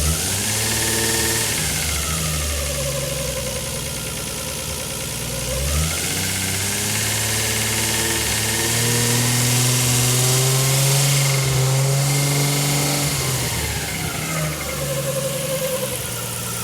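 A Nissan GT-R engine fitted in a Datsun 240Z runs steadily at idle with slight rises in revs, a droning mechanical hum layered with belt noise from the front of the engine, close and continuous with no talking.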